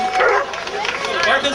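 Search dog at a dog derby barking and yipping in quick high-pitched bursts, close and loud, mixed with voices.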